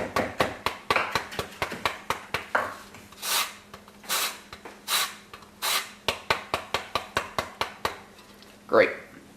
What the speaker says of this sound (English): when you're cutting up the parsley, you want to get all the leaves off